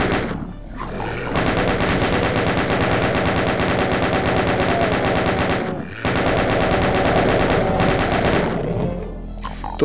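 Rapid machine-gun fire in the video game Doom, long sustained bursts of loud rattling shots broken by a brief pause, with game noise underneath.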